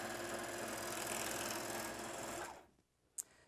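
A JUKI MO-1000 serger runs steadily while stitching quilting cotton, a fast, even mechanical whir close by that stops abruptly near the end, followed by a single small click.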